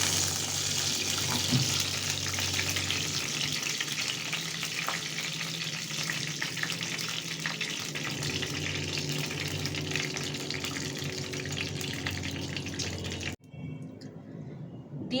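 Bay leaf, dried red chillies, cinnamon and cardamom sizzling in hot oil for a Bengali tempering, a loud steady frying hiss with small stirring clatters that runs for many seconds before cutting off abruptly near the end.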